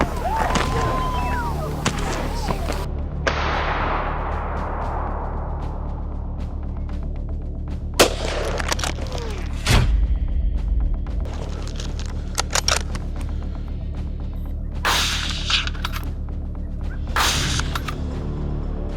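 FN SCAR rifle gunfire in harsh Arabian desert terrain: scattered sharp cracks ring out at irregular intervals, some loud and near, others quicker pairs, over a steady low background hum.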